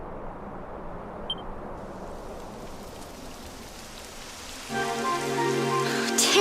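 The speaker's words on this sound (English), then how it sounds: "It would have to go and start raining, wouldn't it?" Steady rain hisses evenly through the opening seconds in Dragon Quest XI, then a musical passage swells in over the downpour near the end.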